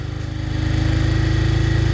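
A Honda Biz motorcycle engine is revved lightly with the throttle, giving a rapid, regular putter that swells a little and then holds steady. It sounds close, with no voices over it.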